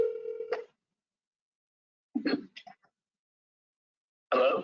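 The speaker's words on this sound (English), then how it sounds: "I'm going to connect with Ms. Kickbush via the phone" A telephone call being placed: a steady tone that stops short, then after a gap a few brief dialing beeps and another burst of tone, clear and close with no talk.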